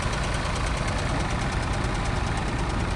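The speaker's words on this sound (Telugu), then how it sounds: "ఇవి ట్రాక్టర్స్ రన్ అవుతుంది." Tractor engines run at the Amaravati capital construction site, giving a steady, close, loud diesel chugging rumble with a rapid knocking pulse throughout.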